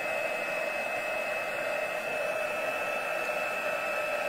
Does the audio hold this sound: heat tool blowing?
yes